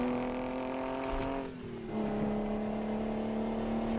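A truck engine in American Truck Simulator drones steadily at speed with strong low harmonics, dipping briefly mid-clip during a gear change before rising again, loud and continuous with no voices.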